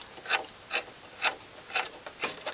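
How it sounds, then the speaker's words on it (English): A dial needle scrapes against the housing of an Astor BPJ "Quality 5" valve radio under restoration, giving six short, soft rasping strokes at a steady, slightly uneven pace, close and quiet with no talk. "A little bit of scraping at the bottom here"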